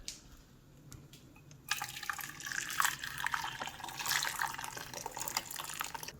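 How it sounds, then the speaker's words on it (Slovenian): Boiling water is poured into a kitchen pot holding chicken for cooking. A steady splashing gush starts after a quiet moment and continues to the end, fairly soft and close. "samo še vrelo vodo dodam."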